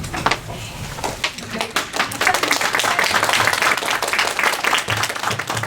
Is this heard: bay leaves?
no